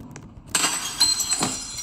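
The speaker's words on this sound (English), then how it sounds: "Let's break every glass." Glass panes shatter inside a Roblox corporate headquarters building, with three sharp breaking crashes about half a second apart, each followed by a tinkling of falling shards.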